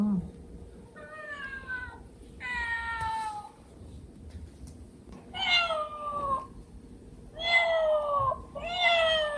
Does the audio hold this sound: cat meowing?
yes